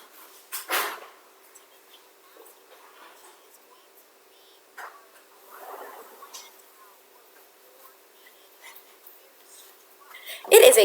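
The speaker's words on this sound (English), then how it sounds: "the dog is barking yet again" A dog barks a few times in the distance, sharp brief bursts separated by long quiet stretches, with a louder burst at the very end.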